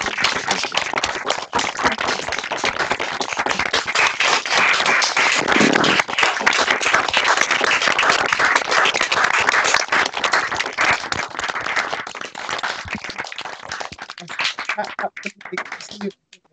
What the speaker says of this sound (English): if we could give you a rousing round of applause